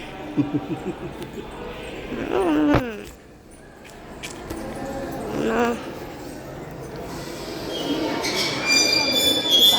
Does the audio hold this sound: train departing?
yes